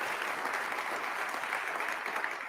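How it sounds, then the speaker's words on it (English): Crowd clapping for mayors at a county executive's ceremonial inauguration, an even wash of applause from many hands that holds steady throughout. "Give your mayors a round of applause."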